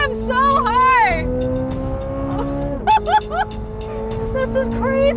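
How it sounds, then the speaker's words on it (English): A Chevrolet Corvette Z06's high-revving V8 engine screams through sharp rising pitch sweeps, dropping and climbing again, with excited voices shouting over it close by. "Oh, it revs so hard!"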